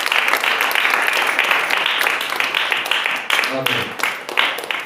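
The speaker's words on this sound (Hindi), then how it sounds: "क्या आप ताली दे सकते हैं फिर" An audience at a church service claps, a sustained dense wash of applause that carries steadily throughout, loud and close, with some voices mixed in.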